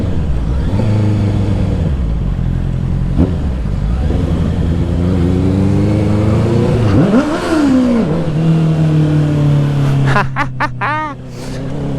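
A motorcycle engine revs up and down repeatedly, rising and falling in pitch, loud and close, with a few sharp throttle blips near the end.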